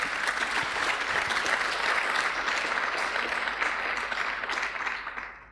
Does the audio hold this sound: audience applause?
yes